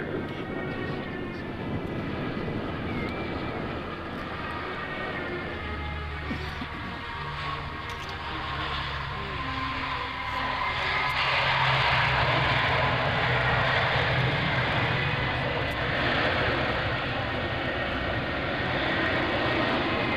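Lockheed P-3C Orion propeller aircraft at an airshow, a steady broadband engine roar that swells louder midway and stays strong, with a faint voice under it.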